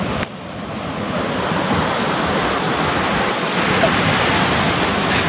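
Ocean surf in Hawaii roars as a loud, continuous wash of breaking waves, with steady rushing noise and some wind buffeting the microphone, and no voices.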